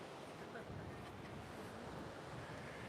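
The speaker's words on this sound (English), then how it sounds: "Man, that wind is fucking starting to blow." Steady wind blowing at an oceanfront beach in Pacific Beach, a broad continuous rush with surf-like wash underneath, fairly soft and even throughout.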